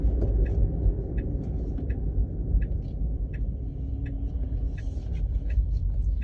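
A car drives along a road, a steady low engine and tire rumble heard from inside the vehicle, with faint regular ticking like a turn signal over the drone and no talk.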